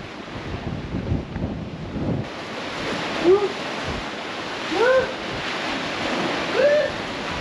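Strong wind gusts buffet the microphone on the rocky Jeju coast, a continuous roaring rush with surf-like swells rising and falling, and a few brief high calls cut through the noise.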